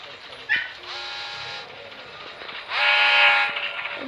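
A train rumbles and screeches along inside the Granny 3 horror game, with two long rising bursts of metallic squeal and a sharp clank between them, fairly loud and close, no talking.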